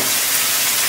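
Water poured onto ground spices frying in oil bursts into a loud, dense hiss of sizzling steam for a brief moment.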